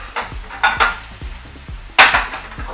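A metal stir-fry plate is handled in a kitchen and knocks against a surface several times, giving sharp, close clanks with short ringing tails and no talk.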